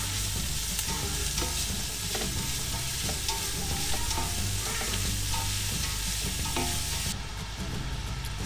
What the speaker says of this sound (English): Sliced onion. Saute well until golden brown.